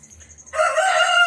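A white chicken, a Rhode Island Red and white Leghorn cross, crows once, loud and close, after a brief low rumble. The call rises abruptly and holds steady to the end.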